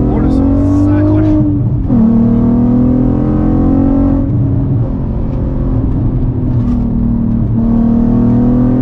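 A Volkswagen Golf R32 with its VR6 engine and four-wheel drive revs hard and accelerates, a loud, steady engine drone rising in pitch through gear changes, heard from inside the car.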